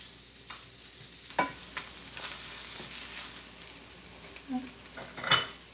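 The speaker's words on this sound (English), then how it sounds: "let me flip the salmon here" Salmon is flipped in a hot pan, with soft utensil clinks and scrapes and a few sharper clatters over a faint, low sizzle.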